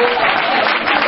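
A church congregation applauding together, a dense, steady wash of clapping that holds evenly throughout with crowd voices mixed in.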